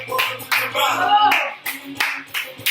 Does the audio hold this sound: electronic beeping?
no